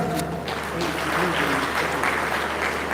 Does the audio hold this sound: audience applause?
yes